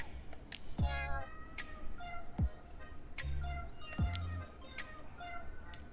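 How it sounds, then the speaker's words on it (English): A cat meows several times in the video game Boyfriend Dungeon, short mews spaced out over game music and ambient sound. "Hey, I know this cat."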